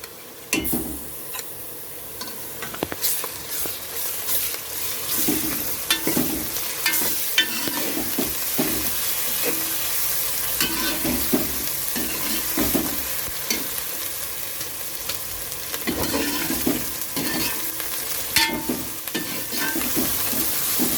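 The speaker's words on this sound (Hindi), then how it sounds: "अब मैं लहसुन अदरक का पेस्ट डालूंगी।" Garlic ginger paste frying in a pan with browned onions for Hyderabadi chicken, a steady close sizzle broken by repeated scraping stir strokes and light clicks of the spoon, without any talk.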